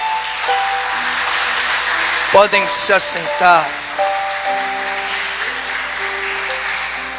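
A church congregation applauds God in a soft, steady wash of clapping beneath sustained musical tones, while someone speaks briefly over it partway through.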